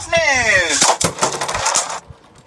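Geist Fafnir spinning top, a Takara Tomy Beyblade, launched with a rising ripcord whine, then clattering and scraping sharply in a stadium before quickly going quiet.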